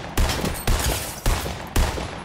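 A scoped rifle in the Fortnite video game fires four sharp, loud shots at an even, unhurried pace, each with a short echoing tail.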